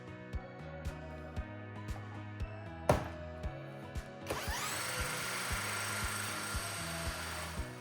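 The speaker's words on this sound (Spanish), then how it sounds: "Colocaremos un perno Allen en el eje del alternador para accionarlo con un taladro de batería." A cordless drill whirs in short bursts with ticking clicks, then revs up into a sustained high whine as it spins an alternator shaft via an Allen bolt steadily, close by.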